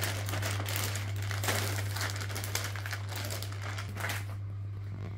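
A plastic vacuum storage bag with a zip seal crinkles and rustles as blankets are packed into it, with close, irregular handling noises over a steady low hum that thin out near the end.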